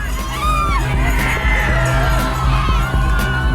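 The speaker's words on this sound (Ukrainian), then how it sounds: "І кричуть, за свій кут боліють." A large support crowd at a stadium wrestling match shouts, whoops and yells continuously in overlapping bursts, loud and lively throughout.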